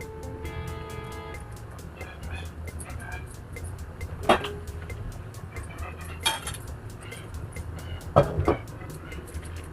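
A plate used as a lid is set on a kadai of Punjabi-style rajma, producing a few scattered clinks and knocks of metal and crockery against a steady low background rumble.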